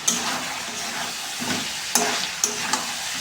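Chicken pieces stir-fried in a pan with turmeric, chilli and coriander powder, the meat browning hard: steady frying hiss with clacking spatula scrapes near 2.0 and 2.4 seconds, close and fairly loud, with no talk.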